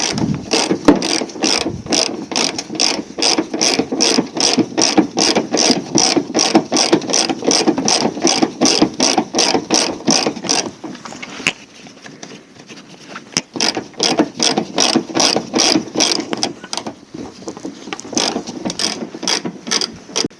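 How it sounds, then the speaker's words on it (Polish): A ratchet wrench clicks rapidly and loudly while undoing engine mount bolts on a 1.6 diesel Volvo, the fast regular ratcheting broken by a short pause midway before resuming. "jak mamy już lekko silnik podniesiony, zabieramy się za odkręcanie tych czterech śrub"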